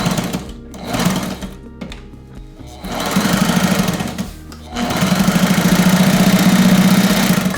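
A sewing machine top stitches a tote bag made from recycled sail cloth, a rapid mechanical chatter running in bursts that grow longer and steadier, close and loud.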